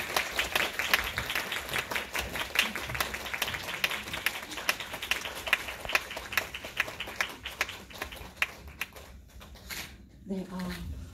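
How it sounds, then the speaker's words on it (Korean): A cinema audience at an independent film screening and Q&A gives sustained applause, dense crackling clapping from many hands that runs steadily for about nine seconds before thinning out, with a few voices and stage noise at the close. "여러분들 큰 박수 부탁드립니다."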